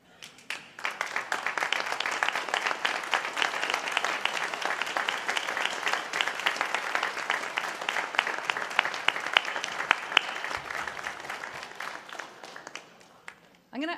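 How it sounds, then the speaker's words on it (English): A large audience at a university Faculty of Science ceremony breaks into a rousing round of applause, dense clapping rising quickly and holding steady for over ten seconds before fading out. "give them a rousing round of applause in return"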